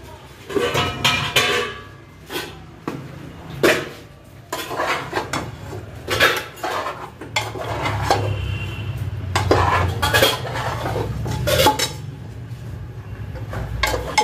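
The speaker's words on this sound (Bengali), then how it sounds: "এবার আমি মাংসটা ভালো করে কষিয়ে নিচ্ছি।" Mutton is stir-fried in a pot for a thin curry, a metal spoon scraping and clanking against the pot in irregular bursts over a low sizzle, close and alone.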